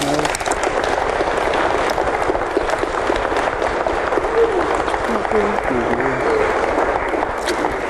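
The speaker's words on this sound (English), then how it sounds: "Let's give them a round of applause." A room full of people at a wedding applauding, steady dense clapping throughout with a few voices and cheers mixed in.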